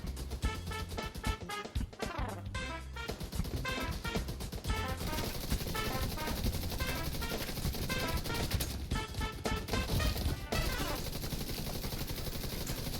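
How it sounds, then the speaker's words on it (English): Sustained automatic gunfire in The Division 2 rattles continuously and loudly under a full game soundtrack, with a short break before the shooting resumes. "We're still shooting while putting an armor kit on."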